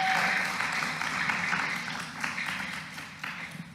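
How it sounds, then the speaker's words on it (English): A church congregation gives a round of applause, a moderate steady clapping from the room that gradually thins and fades toward the end. "Can we give them a clap and thank them for..."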